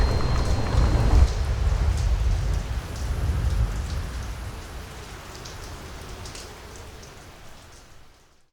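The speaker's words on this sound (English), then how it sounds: "I regret saying it's nice cycling in the rain." Steady heavy rain pours down during a bikepacking ride through France, a dense close hiss that gradually eases and thins toward the end, with no voices.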